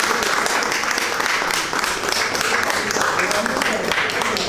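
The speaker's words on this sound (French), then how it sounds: "ça s'applaudit" A crowd at a collective Ramadan fast-breaking gathering applauds, with dense steady clapping throughout and voices mixed in.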